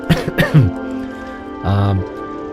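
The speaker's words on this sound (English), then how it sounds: "Got a cough." A single close cough, sounding partly like a throat clearing, follows a couple of short vocal sounds.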